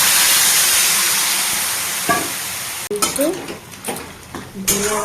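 Leafy greens hit a hot pan with spices and oil in a home kitchen, a loud sizzling hiss that fades, then gives way to scraping stirs and clinks of the spatula against the pan.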